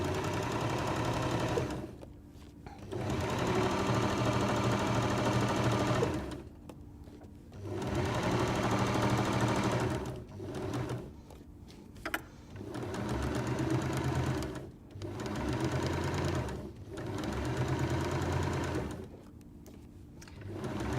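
A sewing machine runs in several bursts, stitching the bottom edge of fabric for a coat hanger safe, a close steady motor whir that stops and restarts with short gaps.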